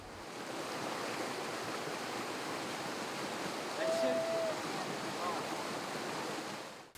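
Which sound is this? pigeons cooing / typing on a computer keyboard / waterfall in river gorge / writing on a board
waterfall in river gorge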